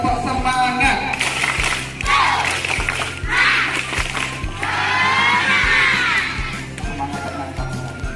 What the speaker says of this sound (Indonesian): Sekarang coba tepuk semangat.